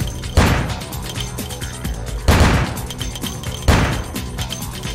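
Gunfire from a weapon in the vampire game Vampire: The Masquerade – Bloodlines, three loud, heavy shots spaced about two seconds apart over a busy, cluttered game soundscape, with no talking.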